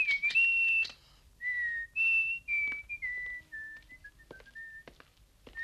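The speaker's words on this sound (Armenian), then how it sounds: "Էդ ինչ ես սուլում։" A person whistling a melodic tune, close and clear, with sliding held notes and short phrases that fade in loudness toward the end; no talking.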